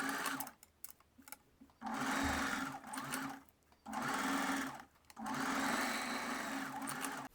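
A sewing machine stitches tone tape onto a bust in four sharp bursts of rapid needle rattle, separated by short pauses, close and clear.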